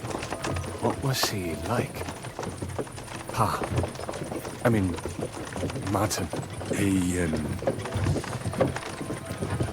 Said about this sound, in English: Whip those fucking horses.